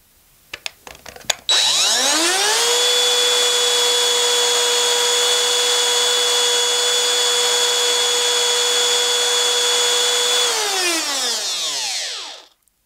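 A Parkside PRSA 20 Li A1 cordless rotary cutter starting after a few clicks, spinning up to a loud, steady high whine that holds for about nine seconds, then winding down to silence.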